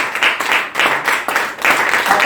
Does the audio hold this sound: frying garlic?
no